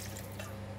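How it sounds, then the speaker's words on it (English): Water pouring steadily from a tap into a cooking pot for Cantonese yee mee noodles, a short, even, close rush with no break. "I'm adding in some water."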